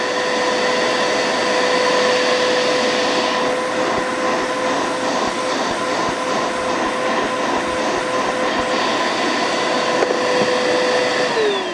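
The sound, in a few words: Bissell vacuum cleaner running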